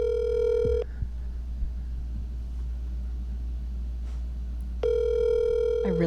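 Telephone ringing tone, an electronic multi-tone ring heard twice, once at the start and once near the end, separated by a pause, over a low steady hum.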